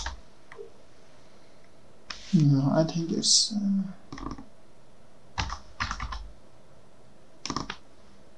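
Keys on an English computer keyboard click in short bursts on a Windows PC, light taps between stretches of a person talking.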